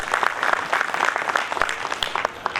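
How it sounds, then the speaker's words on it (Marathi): Audience applause at a devotional gathering, a dense burst of many hands clapping continuously, fairly close and lively. "त्यांच्यासाठी एकदा टाळ्या वाजवा आपण सगळेजण"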